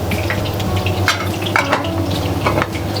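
Cutlets frying in oil in a pan in a Tehran home kitchen, a steady loud sizzle with occasional clinks and scrapes of utensils, close by, no talking.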